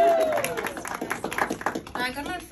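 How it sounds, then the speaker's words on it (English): A comedy club audience applauds a toy poodle's stand-up set, a short burst of scattered clapping. A voice talks over the clapping throughout. "round of applause for Jiggy."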